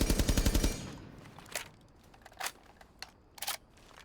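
Short burst of rapid automatic gunfire from a weapon with an extended barrel in Rainbow Six Siege, about eight quick loud shots, followed by a few scattered mechanical clicks and clacks in near silence.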